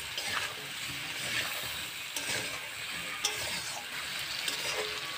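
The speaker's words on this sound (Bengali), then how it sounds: "মশলাটাকে এবার কষাই দেবো" Spice paste sizzles steadily in a hot pan while being fried for a Bengali katla fish curry with potato, eggplant and beans, with a spatula scraping and clinking at intervals throughout and no talking.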